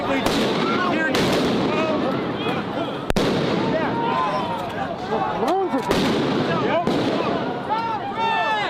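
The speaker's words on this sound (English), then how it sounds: "They're throwing flashbangs up and most likely tear gas." Repeated sharp flashbang blasts at a street protest, several loud cracks in irregular succession with echoing tails, amid crowd shouting and voices throughout.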